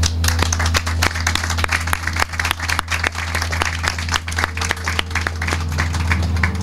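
An audience at a dedication event at the I-95 Newark toll plaza breaks into applause, dense clapping holding steady for several seconds over a constant low hum from the room or sound system.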